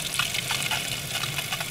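Hot water gushing hard from a tap fed straight from a well, a steady, fairly loud broadband rush of liquid that continues evenly without pauses.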